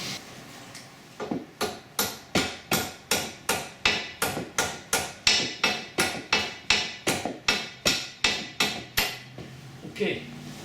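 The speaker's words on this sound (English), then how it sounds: "Let's see if I can get a smaller hammer." A hammer strikes a safety pin on the coil spring of a 2011 Cadillac SRX strut, about twenty sharp, evenly spaced metallic blows, close and fairly loud, with no talk over them.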